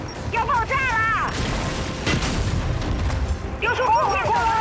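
Frag grenade explosions in Gears 5, a couple of loud, rumbling blasts in the middle of heavy combat noise, with voices talking at the start and end.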